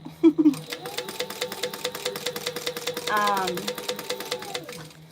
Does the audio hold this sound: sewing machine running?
yes